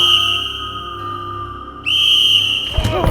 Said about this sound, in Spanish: se oyó el sonido del silbato, tan claro y penetrante como si Sir Robert estuviese tocándolo.